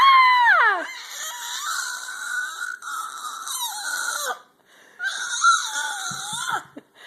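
Children's voices scream and wail out loud during a singalong, high drawn-out cries with sliding pitch in several bursts separated by short gaps.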